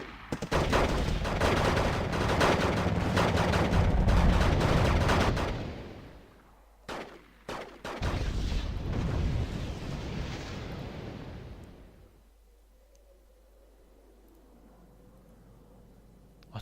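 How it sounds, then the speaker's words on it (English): Heavy artillery fire in a Wargame: Red Dragon multiplayer battle set in North Korea: loud, dense booming barrages and crackling blasts, a sharp burst of separate bangs midway, then a long rumbling decay fading toward quiet. "Artillery fire."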